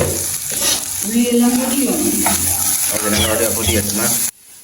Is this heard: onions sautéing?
yes